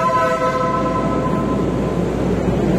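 A Honda BR-V sounds its compact-type air horn, a loud, steady blaring tone with strong harmonics that holds for nearly three seconds up close.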